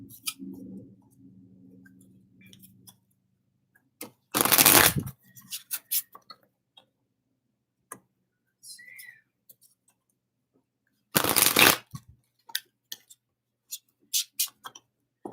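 Tarot cards shuffled by hand in two loud, close bursts of riffling, with scattered light ticks and card taps between them and a faint low hum at the start.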